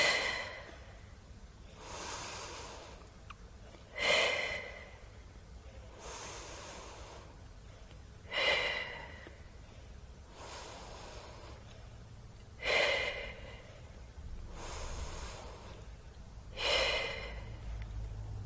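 Deep breaths during a Pilates plank exercise come as slow, regular breathy exhales, about every four seconds, close to the listener against a quiet room with no talking.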